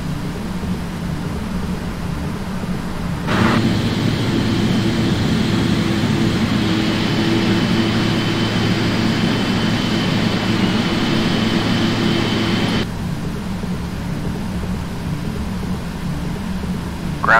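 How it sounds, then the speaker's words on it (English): Jet engines of a PMDG 777 spooling up in the Prepar3D flight simulator, a steady loud roaring hum that starts abruptly, holds for several seconds, then drops back to a quieter background drone. "requesting engine start and pushback"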